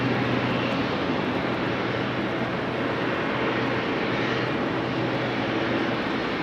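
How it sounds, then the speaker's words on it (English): An Embraer E2 jet taxis toward runway 18 left at rainy Amsterdam Schiphol, giving off a steady, moderately loud engine whine and rumble with no talk over it. "There's an E2 Embraer making its way over to 18 left"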